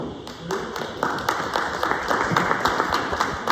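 Audience applause from a small group at a morning community business meetup, a brisk patter of hand claps close to the mic that swells slightly and continues steadily throughout.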